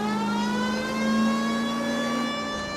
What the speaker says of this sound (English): So you press L to use siren.